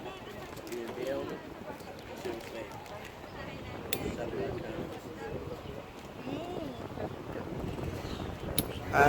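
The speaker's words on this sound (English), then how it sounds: "we're going to sail down this Manavgat river." A tour boat cruises down the Manavgat river with a low, steady engine and water rumble, wind buffeting the microphone and people talking nearby throughout.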